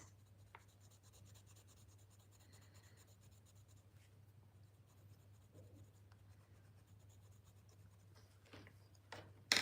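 A pencil lays down light layers on paper in a close, very quiet scratching that continues throughout, soft and steady over a low background hum, with a louder scrape at the very end.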